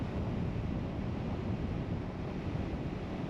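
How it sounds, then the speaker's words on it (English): Wind turbulence roars around a motorcycle crash helmet on a KTM 390 Adventure fitted with a Givi Airflow windscreen, a dense, steady, close rushing noise with no breaks. "it's noisy and quite a bit of turbulence around the crash helmet."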